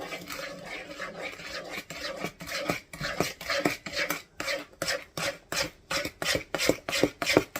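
A spoon scrapes and stirs rhythmically through cookie bar batter in a bowl after vanilla goes in. The strokes are quick and regular, close up and alone, with no voices.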